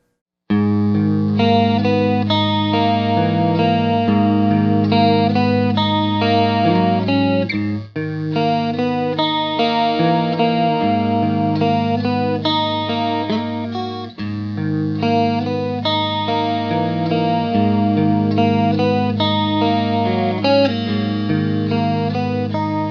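Electric guitar chords strummed through a MESA/Boogie JP-2C tube amp with heavy distortion, a shimmering chorus effect and TC Electronic Hall of Fame reverb, played steadily and loudly in a continuous rhythmic pattern.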